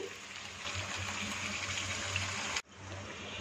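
Water pours steadily from a yogurt cup into a pot of chicken curry, a close, continuous splashing gush lasting about two and a half seconds before it cuts off abruptly, followed by a faint room hush.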